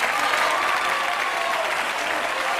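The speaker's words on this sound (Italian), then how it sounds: "Grandi applausi per Giulio" Steady, dense applause from a television studio audience greeting Italian Prime Minister Giulio Andreotti, a continuous wash of many hands clapping at even volume throughout.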